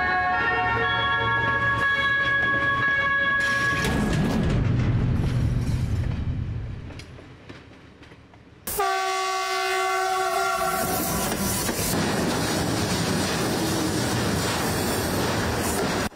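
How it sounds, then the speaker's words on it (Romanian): Train crossing an old bridge near Racoș, Romania: a loud rolling rumble with horn tones and rail clatter, fading briefly, then a sharp restart into steady wheel noise and a sustained horn blast. "Dacă ai ghinionul să te afli în trenul care trece peste acest pod și te mai uiți pe geam, riști să stea puțin inima în loc"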